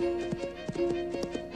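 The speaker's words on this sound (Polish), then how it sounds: "Piękny koń." Horse hooves clip-clop in a brief, irregular series of sharp knocks over a steady tonal hum, moderately close and fairly faint, with no talking.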